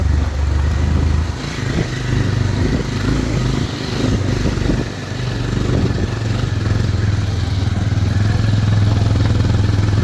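A motorcycle strains uphill on a friends' ride to Jharana waterfall in Blanchhe, its engine a loud, steady, close drone that holds throughout with a slight dip midway.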